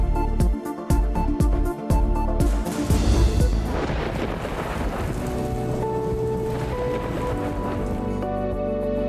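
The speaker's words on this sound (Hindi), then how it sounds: "लाहौर में गरज चमक के साथ तूफानी बारिश" Heavy stormy rain pours down in Lahore, a dense steady roar of drops on surfaces with low thunder rumbling underneath, preceded by a few sharp broadcast stings at the start.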